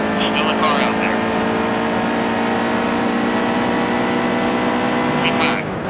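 Race trucks in NASCAR Heat 2 roar steadily through a Daytona International Speedway truck series race, with a continuous loud engine drone and passing vehicles, while a spotter's voice talks over the racing.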